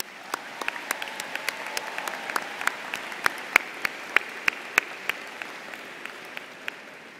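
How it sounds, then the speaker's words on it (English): An audience at a college commencement ceremony applauds faculty members with steady, moderately distant clapping, individual sharp claps standing out above the crowd's sustained patter throughout. "please give a round of applause to the faculty members who have helped you and for those who are here today"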